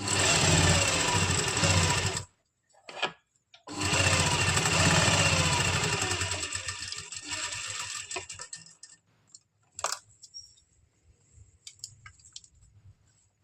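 A sewing machine runs in loud, fast bursts while small stitches go along a suit neckline. Two long runs are split by brief stops, then come softer clicks and taps as the fabric is handled.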